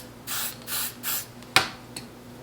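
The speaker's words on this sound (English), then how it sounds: "I'm going to apply my freeze spray first" Three short hissing bursts of freeze spray applied to a lace front wig during installation, each about a third of a second, close and fairly loud, followed by a couple of sharp clicks.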